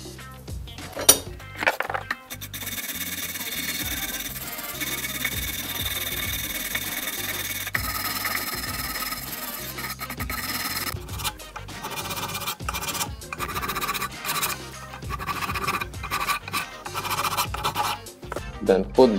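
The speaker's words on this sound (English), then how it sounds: "Using metal wire brush, remove rust and if necessary use metal file." A metal wire brush scrubs rust from a rear brake carrier on a Renault Laguna 3 with an electronic parking brake, making continuous, close, gritty scraping strokes that continue almost without pause.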